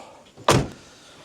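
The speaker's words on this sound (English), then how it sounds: "shut door" A VW Crafter van's rear door shuts with one solid thud at close range, then quiet.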